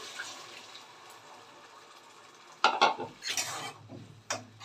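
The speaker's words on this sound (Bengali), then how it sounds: "ছোলে যেটা আমি রেখেছিলাম সেদ্ধ করে ঢেলে দিলাম" Boiled chickpeas for chole masala poured into a pan of cooked spices, soft kitchen background followed by a clattering pour, scraping of a utensil against the pan and a final clink.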